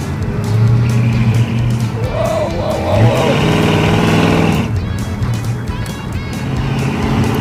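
A race car roars hard through a timed run, its engine loud and close and climbing in pitch as it accelerates, with the tires squealing at points and someone shouting excitedly over the noise.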